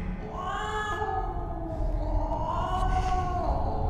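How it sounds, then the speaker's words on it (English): A cat in the video game Stasis gives a drawn-out, wavering meow, loud and close, followed by a second rising yowl, alone over a low rumbling ambience. "Goddamn cat."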